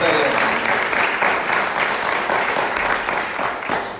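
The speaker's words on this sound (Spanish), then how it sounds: "Denle un aplauso fuerte" A church congregation breaks into loud, sustained applause at a service on church unity, many hands clapping together in a dense, even roar with a few voices mixed in.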